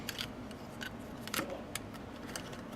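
Plastic Transformers Age of Extinction Deluxe Strafe toy wings folding and unpegging from the arms, giving a string of small, sharp clicks and snaps, close and fairly faint, with no talk.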